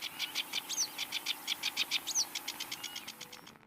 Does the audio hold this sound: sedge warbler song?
yes